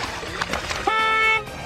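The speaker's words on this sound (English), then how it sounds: "God, that's my horn." A boat horn on a bass fishing boat during a live tournament broadcast at Lake Eufaula gives one steady, bright honk of about half a second, loud and close, cutting through faint background talk and boat noise.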